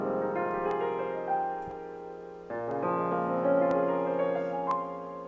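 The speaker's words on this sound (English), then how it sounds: "I ended up finding a really cool piano sample with nothing on it." Piano sample for a hip-hop beat: bare, warm sustained chords that shift every second or so, with faint bright ticks on top and a low hum underneath, steady and unaccompanied by drums or voices.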